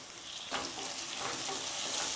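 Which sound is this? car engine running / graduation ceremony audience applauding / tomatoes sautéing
tomatoes sautéing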